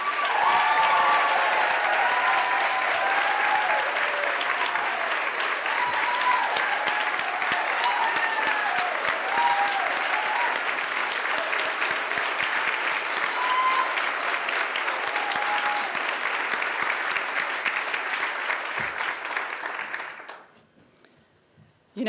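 A school audience applauds the standing parents of young women honored at a 2013 presentation and celebration, a dense, steady clapping with scattered cheers for about twenty seconds before it stops abruptly.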